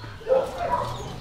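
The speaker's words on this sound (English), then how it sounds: "They got right at 100 dogs. All working dogs." Working dogs and puppies bark and yip together in clean kennels holding around a hundred dogs, a continuous, busy chorus close by.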